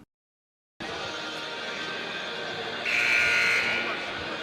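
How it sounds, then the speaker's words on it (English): A warning buzzer sounds at a West Virginia high school boys' basketball game, rising as one loud sustained electronic tone for under a second over steady gym crowd noise. "It's the warning buzzer."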